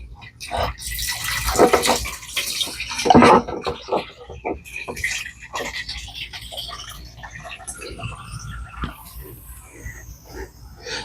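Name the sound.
water being poured into a sprayer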